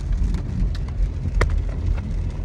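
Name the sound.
rain falling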